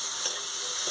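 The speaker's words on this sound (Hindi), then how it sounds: "अब हम इसमें टमाटर डालेंगे और टमाटर को अच्छे से मिक्स करना है" Tomatoes are stirred into a fried turmeric and chilli masala, giving a short, dense, loud sizzling hiss that holds steady, close up and without speech.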